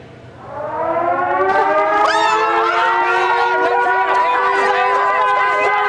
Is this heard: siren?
yes